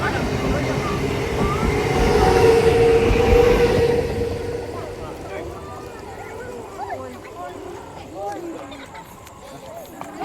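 A passenger train rumbles loudly from inside the carriage, with a steady rolling roar that eases into a lower rattle as people talk nearby.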